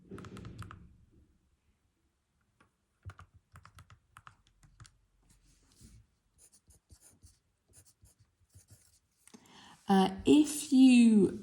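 Numbers are keyed into a calculator during an exam-paper maths solution: sparse, soft clicking taps scattered across the quiet, then a voice speaking close up at the end.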